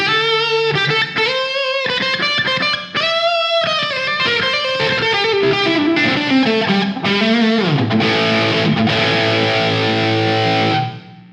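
A Gibson Les Paul Jr electric guitar plays lead lines with the tone knob up and reverb added, sustained, loud notes and bends running steadily, ending on a long ringing chord that decays.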